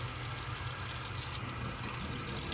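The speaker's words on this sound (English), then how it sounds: "So I'm just pulling the rest of the soap out, rinsing it off, and until I can't feel any more soap in it." Running water from a tap pours steadily over an oil paint brush as the soap is rinsed out in a sink, a continuous close gush with no talk.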